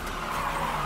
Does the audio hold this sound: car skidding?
yes